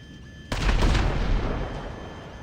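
A sudden loud explosion in GTA 5 Online bursts in close by, followed by a rumbling, crackling roar and secondary blasts that slowly fade over a couple of seconds.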